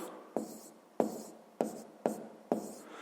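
Numbers written by hand for a 6th-grade maths exercise give five distinct scratchy pen strokes at a steady, near-even pace, close and fairly quiet.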